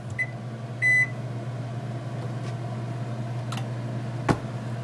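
A microwave oven warming pizza hums steadily with a low drone, a couple of short electronic beeps near the start, and a few faint clicks and taps over the running hum.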